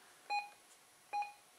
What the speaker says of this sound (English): That's just the normal key beeps.